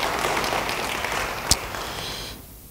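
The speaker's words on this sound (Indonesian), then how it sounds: "Yang mau beri tepuk tangan bagi dia." A church congregation claps along in applause, a steady dense patter of hands throughout that fades away near the end.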